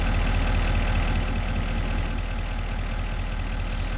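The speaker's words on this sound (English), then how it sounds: "I love the way this truck sounds when I turn it on." A truck engine in Farming Simulator 25 runs loud and steady, a dense low rumbling idle with a faint repeating high tone, no voices.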